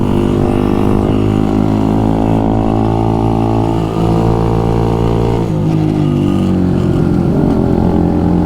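A small motorcycle engine drones steadily at high revs while riding, its pitch shifting slightly as the throttle changes, loud and continuous throughout.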